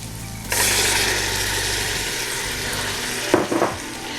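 Small red beans sauteing in a pot, a steady broadband sizzle that starts abruptly and holds loud and even, with a couple of brief clatters near the end.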